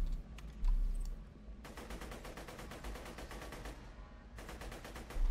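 Rapid automatic gunfire in Borderlands 2, with bursts of quick evenly spaced shots and brief pauses, fairly faint and heard alone without talk.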